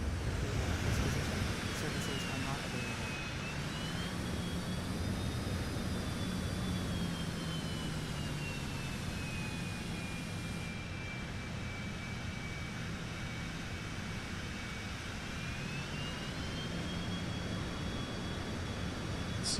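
A Citation X business jet lands in the video game MSFS 2024, its engine whine steady and loud throughout, the turbine pitch sliding down and back up across the long approach and rollout.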